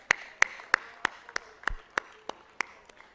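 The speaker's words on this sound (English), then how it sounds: "Great applause." Steady, evenly spaced claps ring out about three times a second at a school function, each one crisp and distinct rather than a dense roar, with a quiet hall in between.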